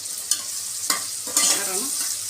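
Onions sautéing in a pan for chicken biryani sizzle steadily while a spoon stirs them in a few distinct scraping strokes, close and moderately loud, with no talking.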